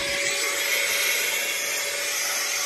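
A small shop blower roars steadily and loudly up close as it clears brass shavings from a DIY boombox build, a constant broadband rush with no speech.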